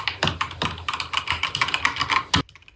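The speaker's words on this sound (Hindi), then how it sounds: "चलिए देखते हैं टाइपिंग के वक्त इसका साउंड कैसा आता है" Rapid, uneven clacking of keys being typed on an Evofox Ronin mechanical keyboard, a heavy and solid board, close and crisp with no voices, ending in one firmer keystroke and then silence.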